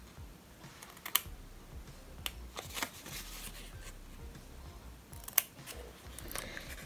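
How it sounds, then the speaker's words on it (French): Scissors snip through paper and card for a Christmas 2022 album cover, giving several sharp, close cuts spread unevenly among quieter rustling and handling noises, with no talking. "je vais couper comme ceci"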